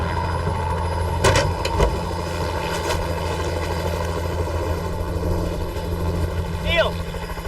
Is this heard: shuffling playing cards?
no